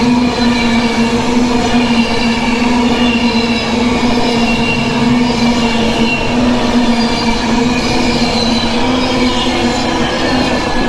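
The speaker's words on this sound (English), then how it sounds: "That makes a change, doesn't it? Trains running." A train runs steadily and loudly on rail throughout, with a constant low rumble, a strong droning tone and continuous wheel noise, no talking.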